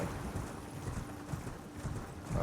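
Horse hooves galloping in the video game Elden Ring, a steady rapid clip-clop rhythm beneath a dense, loud game soundtrack and ambience.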